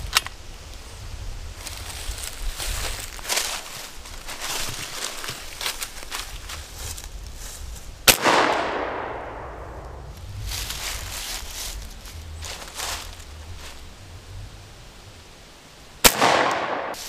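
Shots from a .45 caliber airgun outdoors, each a sharp loud crack followed by a decaying rush of air, two shots about eight seconds apart over rustling and faint movement sounds.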